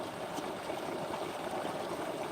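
Faint, steady water flow rushes and trickles through an irrigated farm field as the water is diverted, a low continuous wash with no voices.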